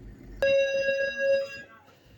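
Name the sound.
doorbell ringing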